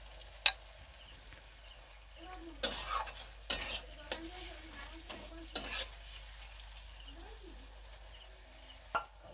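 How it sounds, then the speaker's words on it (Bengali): Salted tomatoes fry over a low flame in a pan, a quiet, soft sizzle punctuated by a few distinct spoon scrapes and clinks as they are stirred, close by, without speech. "গ্যাসটাকে এখন লো ফ্লেমে রেখে ভালো করে এটাকে কষাতে হবে।"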